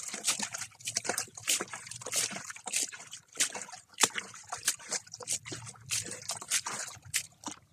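Water is poured and sloshed onto freshly planted sugarcane setts in a garden. Irregular splashes and trickles come in quick uneven bursts, close by but fairly soft.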